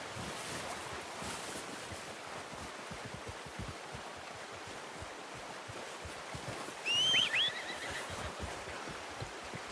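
A horse whinnies briefly in Red Dead Redemption 2, a short bright call near the seven-second mark rising over steady outdoor ambience with soft hoof clops and a wash like surf.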